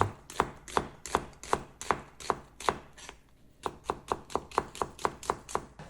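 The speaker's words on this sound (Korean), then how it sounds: "오이 무침과 잘 어울리는 양파 한 개도 썰어줍니다" A knife chops cucumber and an onion on a cutting board, producing a steady run of sharp, evenly spaced taps with a short pause midway, close and clear with no talking.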